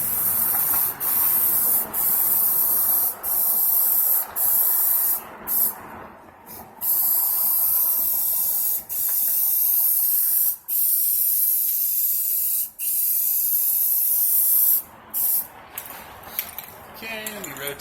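An aerosol can sprays a coat of paint over a stencil on a Robotron, in long steady hissing bursts broken by short pauses, loud and close with occasional light clinks.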